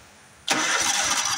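A small mower engine with its spark plug wire disconnected is turned with the key, a sudden starter whir that cuts in after a moment of quiet and runs steadily and close.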